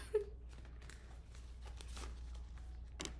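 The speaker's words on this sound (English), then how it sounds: "Just make sure I shuffle really well." A deck of tarot cards is shuffled by hand, giving faint, scattered soft riffles and light ticks over a quiet room.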